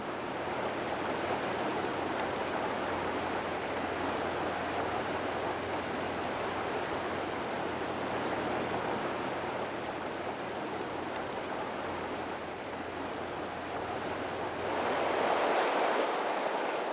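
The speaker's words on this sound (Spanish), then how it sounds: "A través de este paisaje discurre el río Dunajec" The Dunajec river in Poland flowing through a mountain landscape, a steady broad rush of moving water heard from a distance, swelling slightly louder near the end, with no voices.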